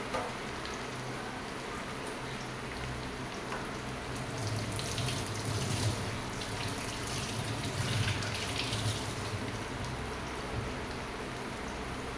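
A kitchen tap runs steadily as a kadai and other dishes are washed underneath, a continuous hissing splash with small clatters rising and falling, no voices.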